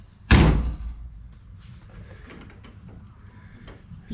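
A car door on a hot rod slams shut with one loud, close, heavy thud, followed by faint rustling and small handling sounds.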